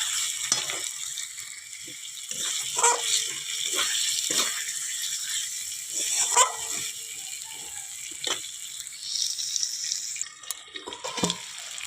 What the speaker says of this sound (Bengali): দেখো কষানো হচ্ছে, আর একটু হবে কষানো।